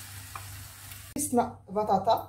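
Chicken sandwich filling cooking down in a pan over lowered heat, with a sharp clack near the middle and then bursts of stirring and scraping under a low steady sizzle.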